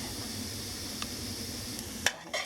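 Soft, steady sizzling hiss of ground beef browning in a pan, with a brief utensil clink near the end.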